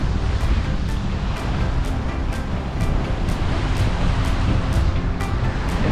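Surf rolling onto a beach in Vlore, Albania, a continuous loud wash of breaking waves mixed with gusty wind buffeting the microphone, with no voices.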